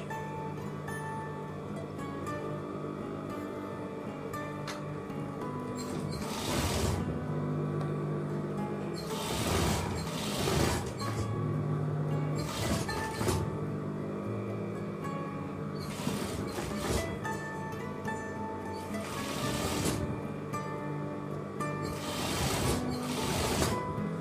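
A sewing machine stitches the lining of a thick, washable fabric face mask, running close and steady in a continuous mechanical whir. Brief louder bursts recur every few seconds, and nobody talks.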